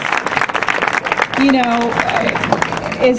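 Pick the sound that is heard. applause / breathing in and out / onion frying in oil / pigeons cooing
applause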